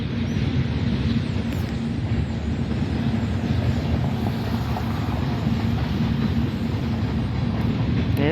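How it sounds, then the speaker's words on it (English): A long freight train rumbles past close by in a dense, continuous roar of wheels and rail noise, steady and loud throughout, with wind buffeting the microphone and no voices. "Man, this is gonna be a long train."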